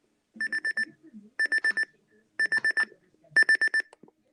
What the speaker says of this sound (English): alarm should work now